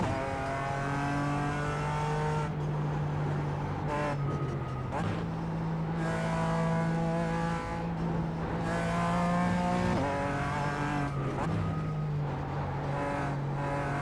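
A race car engine in a sim racing game, in a fixed-setup race, drones steadily and loud, rising through the gears with repeated brief dips at each shift over about fourteen seconds.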